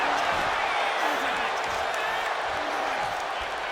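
Arena crowd in the WWE 2K25 wrestling video game roaring and cheering as a steady, loud, dense wash of noise that holds throughout with no break.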